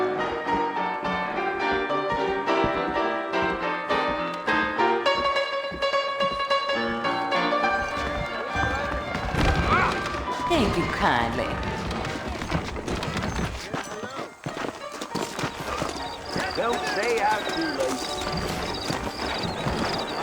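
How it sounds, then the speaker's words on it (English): Saddled horses in the video game Red Dead Redemption, hooves clip-clopping steadily under spoken dialogue and background music, with the hoofbeats growing busier as the clip goes on. "I got the horses saddled up and ready out front."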